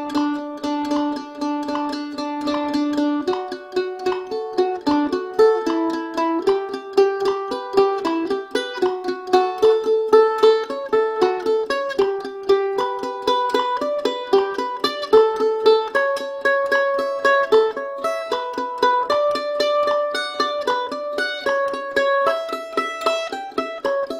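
Mandolin picking a steady down-up-down arpeggio etude at about 70 beats per minute, a Celtic jig technique exercise, with bright plucked notes stepping through changing chord shapes, played solo and close with no talking.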